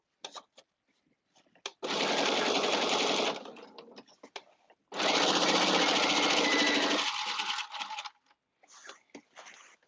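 A sewing machine stitches a caftan in a home studio, running in two long loud bursts of steady whirring with short clicks and pauses between them.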